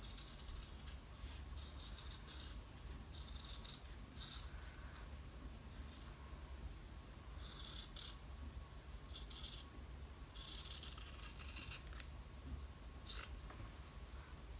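Scissors cutting fabric for a lined zipper bag, a series of close, crisp snips in short bursts with pauses between, steady over a quiet room hum.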